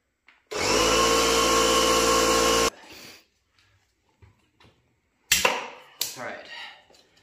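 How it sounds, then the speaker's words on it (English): A compressor hisses steadily for about two seconds as air goes into a Vee Rubber VRM-022 2.75x17 tire on a Honda CT125 Trail 125, followed by quiet handling noises, then short sharper air bursts and clatter. "I'm going to go ahead and start inflating this. So I'll take it up to 41 psi"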